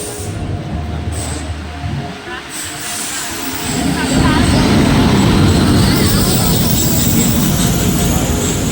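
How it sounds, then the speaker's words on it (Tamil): A passenger train bound for Coimbatore pulls in at a station near Tiruchendur. Its loud, steady rumble and rolling wheel noise swell after a few seconds of quieter platform ambience, with voices mixed in. "அதுக்கப்புறம் நம்ம ட்ரெயின் வந்துச்சு, இந்த ட்ரெயினில் தான் நம்ம கோயம்புத்தூர் போகிறோம்."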